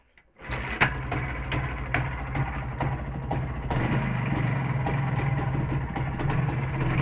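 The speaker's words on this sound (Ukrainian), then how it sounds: "Я нажимаю на кікстартер." A cold Jawa 350 motorcycle with no battery is kickstarted and fires up, catching after a brief silence and settling into a steady, popping, uneven idle, loud and close.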